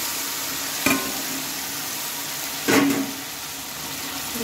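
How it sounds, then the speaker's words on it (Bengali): Fried potato and pointed gourd pieces tossed with spices in a pan give a low steady sizzle, broken by two short scraping stirs near the start and middle. "ভেজে রাখা আলু পটলটা দিয়ে ভালোভাবে মশলার সাথে আমি কষিয়ে নেব"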